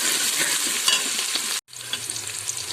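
Half an onion fries in hot oil inside a pressure cooker with a steady, loud, close sizzle, a brief dropout to near silence, then continued hissing crackle.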